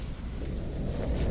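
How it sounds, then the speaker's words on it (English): Strong wind buffets the microphone outdoors on a farm, a steady loud low rumble with no pauses and no talk. "So horrible and windy outside."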